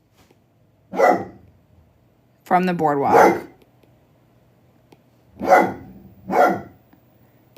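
A dog barks in short bursts nearby, four or five loud barks spaced across the moment, with a brief stretch of voices talking between them.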